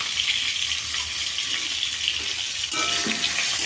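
Ginger paste frying in a kadai while being stirred, a continuous close sizzle with soft scraping and a brief louder rustle of stirring near the end.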